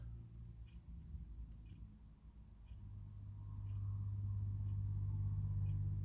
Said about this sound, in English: Sorry if you hear the cars going by.